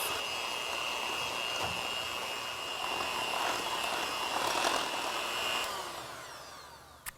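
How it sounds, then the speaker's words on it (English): Eggs and yolks beaten for lemon curd with an electric mixer, a steady, close motor whine that holds evenly and then tapers off near the end. "add your eggs one at a time and beat after each addition"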